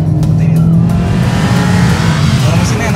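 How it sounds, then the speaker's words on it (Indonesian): A Chevrolet Spin Activ's engine roars at a low pitch in a steady, loud drone during a test drive, with a deep hum throughout and some faint background noise. "tapi ini suara mesin yang meraung di nada rendah."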